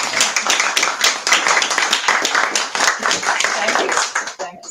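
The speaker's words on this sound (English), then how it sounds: "let's give one more round of applause to Mary." Audience applause for author Mary Troy at a book event, dense steady clapping from a crowd that fills the room, mixed with a few voices, and tapering off at the end.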